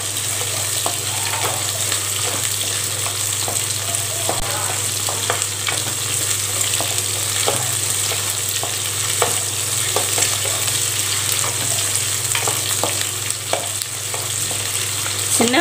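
Small onions sizzle steadily in hot oil for a brinjal curry, a continuous frying hiss with scattered clicks and scrapes of stirring, fairly loud and close, with no talking.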